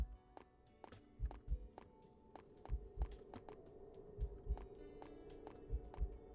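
A low, muffled heartbeat thumps in a horror video game, paired double beats repeating steadily over a faint ambient hum, quiet and close.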